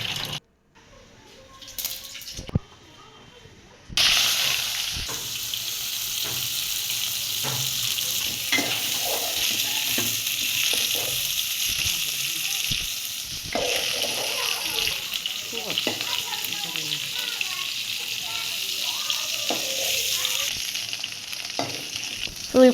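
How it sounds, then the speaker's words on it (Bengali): Cauliflower florets fry in oil in a pot. After a few quiet seconds with faint clinks, a loud, steady sizzle takes over and continues with occasional stirring knocks. "ডেক্সিতে দিয়ে দিচ্ছে তেল, ফুলকপিগুলো হালকা করে ভেজে নেবে"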